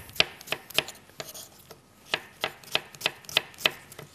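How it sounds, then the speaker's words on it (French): A knife finely slices a shallot on a board, a run of sharp, quick, evenly spaced taps close up with a short pause partway, and no talking. "On va juste émincer une échalote"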